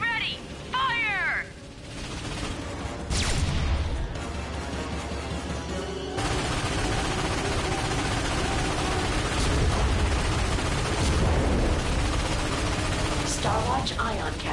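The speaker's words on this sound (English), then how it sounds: "Cannon's ready! Fire!" The Starwatch ion cannon fires in the video game Ratchet and Clank on PS4, loud sustained energy blasts and rumbling weapon fire dominating, with shouted game voices and electronic effects around them.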